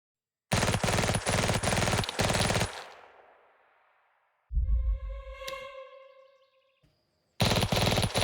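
Bursts of heavy automatic gunfire from a WW2 video game set at Kursk, with rapid repeated shots in loud stretches separated by echoing decay and a ringing, tonal effect between volleys.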